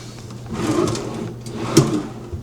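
A wooden nightstand drawer slides open and shut in a Disney's Wilderness Lodge Copper Creek deluxe studio room, giving two loud, close rumbling slides with a soft thump at the end of each.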